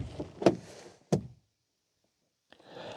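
The driver's door of a Vauxhall Corsa D is opened, with two sharp, close clunks of the latch and handle, a stretch of near silence, then a faint rustle.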